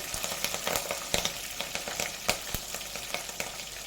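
Slit green chillies frying in a pan of browned onion base for a fish curry with okra, a continuous close sizzle broken by scattered sharp crackles and pops.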